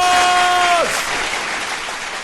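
Studio audience bursts into applause at a dating-advice comedy show, a dense broadband wash of clapping that starts loud and eases slightly, with a brief sung or tonal voice fading out at the start.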